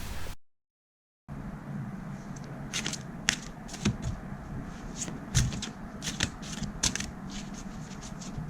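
Tarot cards handled and pulled from a deck during a reading: soft papery shuffling and sliding with a series of crisp flicks and snaps at irregular intervals, close and fairly quiet.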